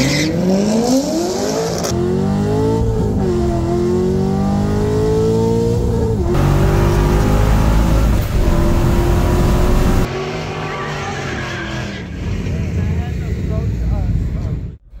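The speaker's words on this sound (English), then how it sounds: "And now it's time for the final race in this best of three drag racing challenge." A supercharged C5 Corvette and a heads-and-cam C6 Z06 Corvette accelerate hard in a street-tire drag race, engines revving loudly through rising gear pulls with sharp shifts, then fading away as the cars pull off.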